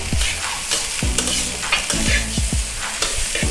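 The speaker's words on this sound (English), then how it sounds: "So I'll keep stirring while the eggs are coming." Nasi goreng rice being stirred and fried in a pan, a steady sizzle broken by repeated scraping strokes of the spatula every half second or so, close and fairly loud with no talking.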